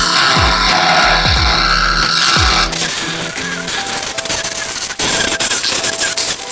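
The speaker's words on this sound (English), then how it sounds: "Now we're just gonna take this Dremel and on a low speed, just take your time, hold your Dremel nice and tight." A Dremel rotary tool running at low speed cuts into the body of a 1964 Impala to fit a second antenna, a steady close, loud whine and grind after a few knocks of handling.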